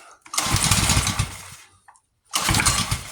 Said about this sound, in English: Can't expect it to start first time when you just rebuilt it.